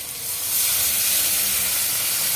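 Water poured into a hot cooking pan sets off a loud, steady hiss and sizzle that swells slightly and holds for a couple of seconds.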